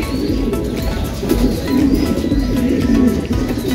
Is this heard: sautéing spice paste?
no